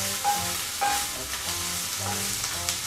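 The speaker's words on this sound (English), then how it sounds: "I'm gonna get the shrimp, the skins, and I'm gonna put it right in there. And I wanna fry them a little bit more" Shrimp skins frying in hot fat in a pan for a chicken and prawn dish, a continuous crackling sizzle with a few louder spits and utensil clinks, no voices.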